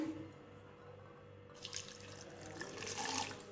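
Water is poured onto jaggery in a pan for a syrup, a short trickle that builds into a steady, close splashing flow.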